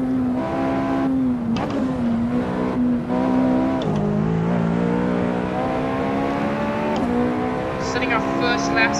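A BMW M4 race car engine drones loudly and steadily in a WEC racing game at Silverstone, its pitch dipping and climbing through gear changes, with a voice talking over it.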